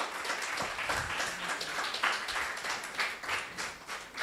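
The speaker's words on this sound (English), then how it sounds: "Huge round of applause for Mr." An audience gives a round of applause at a meet-the-author book event; a steady, moderately faint patter of many hands clapping continues through the whole stretch.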